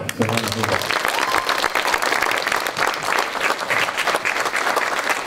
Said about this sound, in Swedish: Vi kan väl alla ge dessa härliga fyra ungdomar en bra applåd.